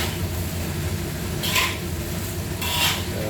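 Pork is stirred in a pan for yam rice, two brief scraping sweeps of the utensil against the pan over a low, steady kitchen background.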